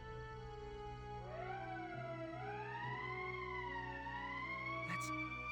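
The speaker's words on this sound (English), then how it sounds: "That's the emergency siren." An emergency siren in the Valkyria Chronicles video game wails in rising and falling sweeps over a steady synthesized drone, loud and continuous, with no voices.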